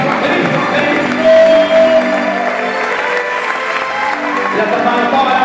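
A church congregation claps and sings together in praise, a broad crowd sound with voices mixed in over the rhythmic clapping.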